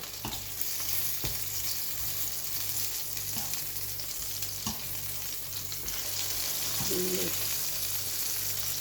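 Brinjal slices fry in a pan over medium heat, giving a steady, continuous sizzle with a few soft clicks and scrapes from turning the pieces.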